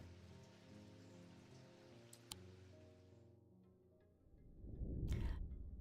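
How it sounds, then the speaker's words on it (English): Rain falls in the Undermere demo, a steady hiss of drops on surfaces that fades after a few seconds and gives way to a low, swelling rumble. "The black mare thundered through the icy rain, shining wet in the moonlight."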